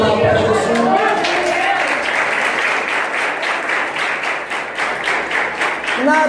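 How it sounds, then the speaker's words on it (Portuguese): A church congregation breaks into applause after a voice at the start, a dense, lively clapping that holds steady for several seconds before a voice returns at the end. "Dê uma salva de palmas para Jesus."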